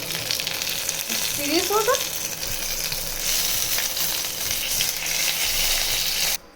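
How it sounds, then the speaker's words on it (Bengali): Curry leaves, cumin seeds and dried chillies crackle in hot oil during the tempering step of a Bengali vegetarian aloo dum, a steady dense sizzle running close and loud for about six seconds before cutting off, with a brief voice over it. "এর মধ্যে আমি এবারে কারি পাতা দেবো ফোড়ন, আর একটু জিরে ফোড়ন দেবো, আর শুকনো লঙ্কা দেবো।"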